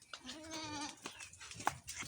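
A goat on a rainy village farm gives a short wavering bleat at close range, followed by faint rustling and a sudden louder noise at the end.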